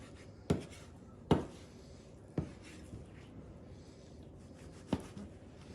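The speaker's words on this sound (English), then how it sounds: "Cut it up in strips at first." A knife slices raw pork belly into strips on a cutting board, four or five sharp close chops spaced apart over a faint quiet background.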